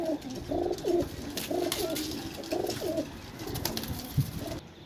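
Pigeons kept for sale cooing close by, a series of soft, throaty coos repeated in a loose rhythm, with some fluttering and faint rustle in between.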